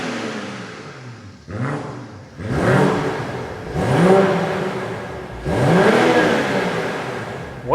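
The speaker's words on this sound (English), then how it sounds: "How that sounds, you're going to find out right now." A BMW 440i Gran Coupe with a 3-liter turbocharged engine revs up through several rising pulls, each climbing in pitch and dropping at the shift, heard close and loud with no talk.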